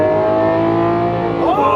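A McLaren 720S sports car accelerating, a steady loud engine drone with stacked harmonics, pitch climbing sharply near the end as it pulls away.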